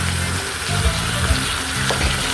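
Ground pork or meat crackles in a hot pan while being stirred, a continuous close sizzle broken by scraping strokes of the spoon every half second or so.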